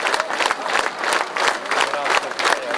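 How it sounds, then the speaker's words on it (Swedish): A concert audience in Mellerud applauds continuously, a dense, steady wash of many hands clapping at close range with no break. "Ni klappar"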